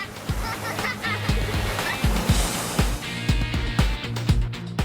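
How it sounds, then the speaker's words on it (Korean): Water in the Yongyeong valley stream flows in a steady, fairly loud rush, broken by occasional low splashing thumps, with no voices. "청량한 물소리에 마음 씻기는 용영계곡."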